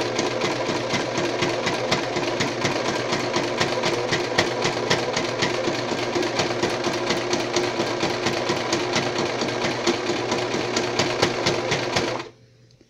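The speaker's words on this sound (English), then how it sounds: "And then we are going to sew slowly and carefully." A sewing machine stitching a fabric bracelet in a steady, fast, loud mechanical rhythm for about twelve seconds, then it stops abruptly with a short tail of quiet.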